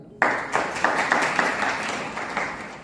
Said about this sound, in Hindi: एक बार उनके लिए ताली